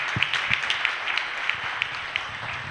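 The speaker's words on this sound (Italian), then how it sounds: "vorrei fare un grande applauso alla mia compagna Ivana" Applause for a woman named Ivana at a fashion show in Civita D'Antino, heard as scattered, fairly distant clapping with a few sharper individual claps in a reverberant space.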